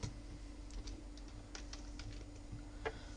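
Quick, light keystrokes on a computer keyboard as Python code is typed, irregular clicks spread across a few seconds over a low steady hum, no talking.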